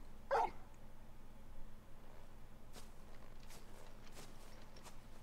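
A dog companion in the Final Fantasy XVI video game gives one short bark near the start. Quieter clicks and game ambience follow over a steady low background hum.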